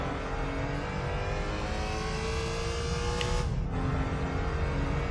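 Car engine in Gran Turismo 3 at Grand Valley Speedway, held at a steady high-pitched rev under throttle, with a brief tire screech partway through, loud and continuous with no talk.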